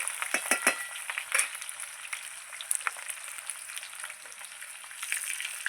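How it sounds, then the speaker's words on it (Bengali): Potato pieces frying in hot oil with a pinch of salt, a steady close crackling sizzle with a few sharper spits near the start and brief stirring clinks, no talking. "দিয়ে আলুটা আমি লাল লাল করে ভেজে নেব।"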